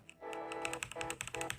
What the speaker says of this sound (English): And this is how the mechanical keyboard would look, how it would sound.